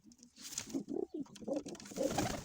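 A pigeon coos softly in a few rounded, throaty bursts, close and fairly quiet, with faint rustling around it, as the bird is held in hand.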